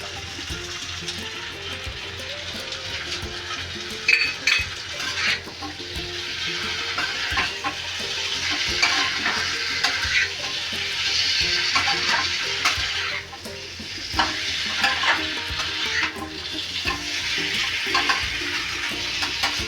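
Fried food is stirred in a pan, with scraping and clinking of the utensil over a steady sizzle. Moments of running water hiss in the background, and nobody speaks.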